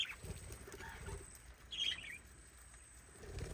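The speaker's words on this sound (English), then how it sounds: "Now in the small parrot aviary, all of our little budgies and cockatiels." Small parrots, budgies and cockatiels, in a small aviary at an animal sanctuary, with soft wing flaps, light patter and scattered faint chirps over a steady low background, one brief brighter burst of chatter midway.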